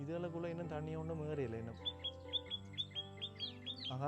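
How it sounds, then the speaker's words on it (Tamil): A small bird chirps repeatedly in a chili garden, a quick series of bright, rhythmic tweets following a man's spoken exclamation, moderately close. "குருவி ஒன்று கத்துது"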